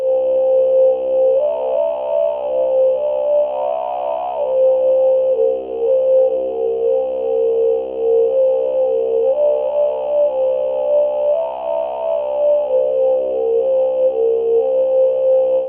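Synthesized throat singing from a Propellerhead Thor synth on iPad: a steady, droning low fundamental with a whistling overtone that slowly sweeps and shifts, sustained continuously and loud without pause.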